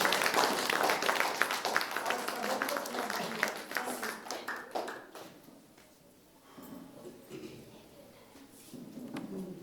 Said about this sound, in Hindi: जोरदार तालियां एक बार सबके लिए